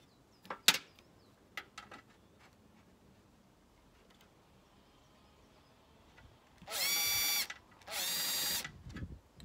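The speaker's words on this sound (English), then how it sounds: "Just going to get the screwdriver and screw these 2 together." An electric screwdriver joins two model railway baseboard pieces, giving two short buzzing bursts near the end after scattered faint knocks and handling sounds, close and fairly loud against a quiet room.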